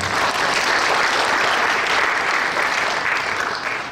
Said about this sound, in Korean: 축하 박수 해주시고